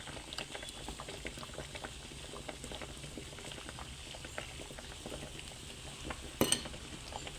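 A spice paste bubbles in a simmering pot while being stirred, making a soft continuous burble with light patters and scrapes and one brief louder clink near the end.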